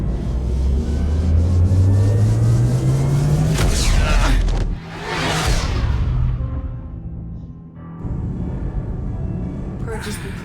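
Starship drive in the video game Mass Effect 2 spooling up with a loud low rumble whose pitch rises steadily for several seconds, then gives way to whooshing bursts and a sustained engine drone.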